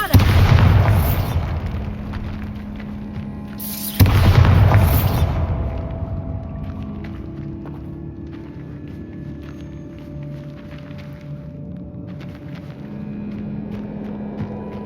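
Two heavy booming blasts from the Bombarda spell in the Hogwarts Legacy video game, each followed by a long rumbling decay, over a steady low game ambience.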